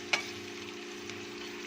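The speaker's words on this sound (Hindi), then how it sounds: "ये देखिए प्याज हमने ब्राउन करना है, हल्का ब्राउन करना है," Onions browning lightly in a pan for a red kidney bean curry, a soft steady sizzle with one sharp scrape of a stirring utensil near the start and a fainter one later.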